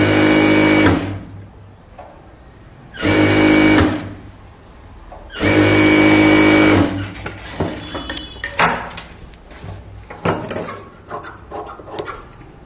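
A sewing machine stitches a chudithar top in three steady bursts of whirring, each about a second long, separated by pauses filled with close clattering and handling of the fabric.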